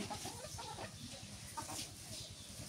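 Domestic chickens cluck in short, scattered bursts over a steady background hiss, moderately close and fairly even in level.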